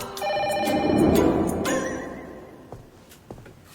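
An indoor telephone rings in a short burst of bright, repeated electronic trills that fade into quiet, with no talking.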